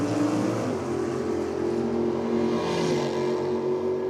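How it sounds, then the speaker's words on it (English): A Chevy Camaro drag car with a 350 small block engine at a track championship, a steady, loud engine drone with a low rumbling tone that holds for the full stretch. "Chevy Camaro 350 small block on board"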